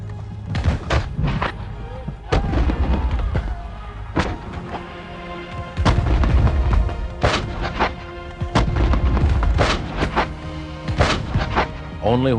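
Heavy booming blasts of cannon fire go off repeatedly over a dense, loud battle din, with deep thuds rolling one after another.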